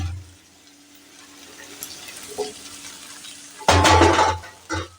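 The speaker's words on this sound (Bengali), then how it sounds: "আলুগুলো সম্পূর্ণ দিয়ে এটাকে আবার সুন্দর করে আবার একটু ভাজা ভাজা করব" Potatoes fry in spiced white oil in a pan, a soft steady sizzle that swells into a louder burst of crackling as they are stirred, then settles again.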